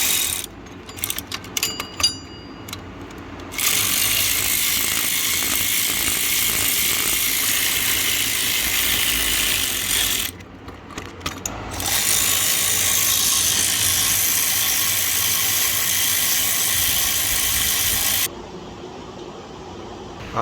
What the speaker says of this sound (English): so now I get these 2 bolts off the front